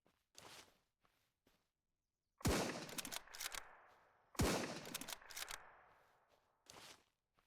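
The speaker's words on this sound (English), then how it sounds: "I'm shooting this guy in the back of the head" Gunshots in SurrounDead: two loud, sharp blasts a couple of seconds apart, each followed by a decaying echo and short rattling tails, with smaller clicks and thuds in the quieter gaps.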